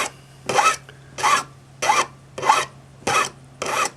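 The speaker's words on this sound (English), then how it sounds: "finish up filing the taper on it" A metal file rasps across a ring blank to shape a taper, with six evenly spaced, close strokes of gritty scraping separated by short pauses and a faint steady hum underneath.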